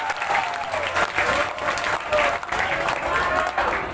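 A school audience claps loudly and continuously for three student council candidates after a debate, a dense, even roar of hands with a voice faintly heard underneath.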